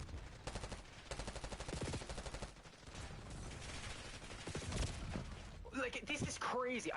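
Rapid automatic gunfire from a Call of Duty match, dense bursts of shots and explosions crackling continuously at close range, with a voice talking over the game audio.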